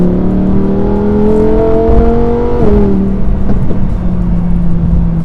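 A car engine revs loudly and climbs in pitch, shifts with a brief drop, then holds a steady high drone.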